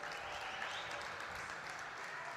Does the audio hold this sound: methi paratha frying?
no